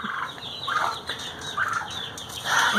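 Backyard Americana hens and a rooster give soft, scattered clucks and brief calls at close range, quiet and intermittent with no voices.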